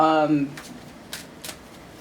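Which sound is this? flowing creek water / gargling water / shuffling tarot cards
shuffling tarot cards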